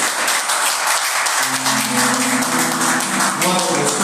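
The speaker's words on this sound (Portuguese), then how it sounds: "E a mensagem de palmas para o Senhor Jesus." A church congregation applauds in a steady, dense burst of clapping, while sustained tones, likely music or a voice, enter beneath it partway through.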